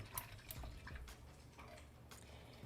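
A paintbrush is rinsed in water during a painting class, faint small splashes and drips swishing irregularly, quiet and close.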